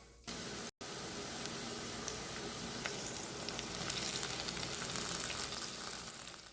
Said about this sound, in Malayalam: ഇനി നമുക്കിത് ക്യാപ്സിക്കം ഇട്ട് കൊടുക്കാം